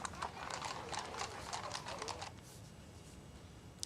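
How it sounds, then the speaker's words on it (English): Horses clip-clop in a traditional Easter Sunday parade, with riders in frock coats and top hats carrying religious banners; a rapid run of hoofbeats sounds fairly close, then fades to quiet after about two seconds. "held a traditional horse parade on Easter Sunday"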